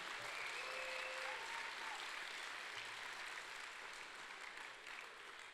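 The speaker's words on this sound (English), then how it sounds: "how about one more big round of applause for Master Auctioneer Chuck Darling and Sheriff Jim Skinner" An audience at a county GOP Lincoln Day event at a ranch gives a long, steady round of applause for an auctioneer and a sheriff, dense and even, tapering slightly near the end.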